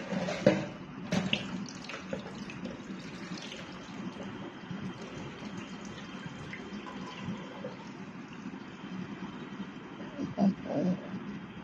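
Tap water runs steadily into a sink while something is rinsed and the water is swirled and emptied. A few splashes and clatters come through, and a person talks over it now and then.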